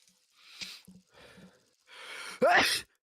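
A single loud, abrupt sneeze bursts out near the microphone during a War Thunder gaming session, following a few quieter breathy sounds and soft vocal noises.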